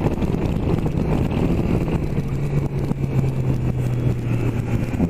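A small-displacement Nova Tiger Sport 660 engine drones steadily on a test drive along a sandy track, its low hum running close and constant under heavy wind buffeting, with no talking.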